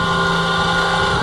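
Motor of a Shark Slicer boat, an upgraded small craft on its first test, running steadily at full throttle as it builds speed, a loud continuous droning hum close by with wind buffeting the microphone and no talking.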